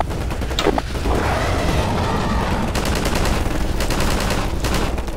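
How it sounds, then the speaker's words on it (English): Something in the Garry's Mod video game shoots fire in rapid bursts of crackling, gunfire-like blasts with a whooshing rush between them, loud and steady, with no speech. "so it can shoot fire"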